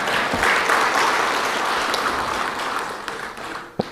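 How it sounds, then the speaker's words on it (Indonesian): Sustained applause from a large audience at an Indonesian presidential address on state budget allocations, a dense even clatter of hands lasting several seconds before thinning out near the end. "Tepuk tangan dulu lah."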